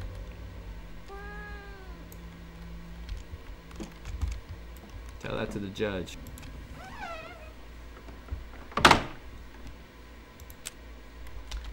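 A cat in Fears to Fathom: Woodbury Getaway lets out several clear meows, some drawn out and rising, fairly close, mixed with keyboard clicks and a brief spoken line.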